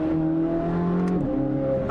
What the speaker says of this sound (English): The ignition cuts on the shifts are awesome as well.